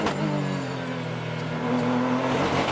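Race car engine from an onboard camera during the 2015 Pirelli World Challenge at the Belle Isle Grand Prix in Detroit, a steady loud droning whine that holds its pitch and rises slightly near the end, with no talking.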